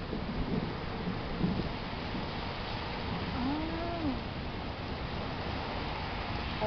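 Rain falls on a night in Winter Park, Florida as a steady, dense hiss of broadband noise, with a faint whistle-like rising tone passing briefly through it.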